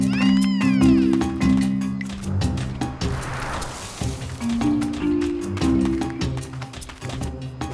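A cartoon baby tiger meows repeatedly in short, high, squeaky calls, close and prominent over lively background music.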